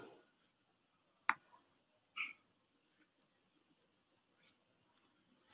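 Mouse clicks land one at a time in a web interface, a handful of sharp, isolated taps with quiet gaps between them, close and fairly faint.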